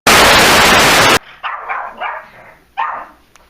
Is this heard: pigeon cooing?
no